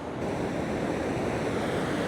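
Surf rolls onto a beach at golden hour in a steady, close wash of breaking waves with wind noise across the microphone, with no voices.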